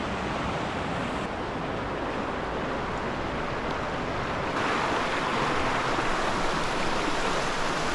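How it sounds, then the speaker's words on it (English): The Ovens River in Victoria runs strongly after a week of rain, a steady loud rushing of water that grows slightly fuller partway through, with no voices. "Camped along the Ovens River, which is really flowing due to all of the rain we have had over the last week."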